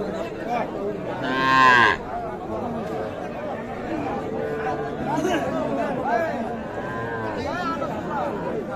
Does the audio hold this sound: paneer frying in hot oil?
no